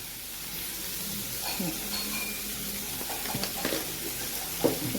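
Beans and potato pieces are stirred in a sizzling pan, a steady close frying hiss broken by scraping and clinking strokes of the spoon against the metal.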